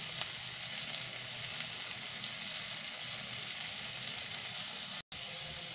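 Spices fry with fenugreek greens and cauliflower in a pan, giving a steady, even sizzle that is close and fairly quiet, with a brief drop to silence near the end and no talking.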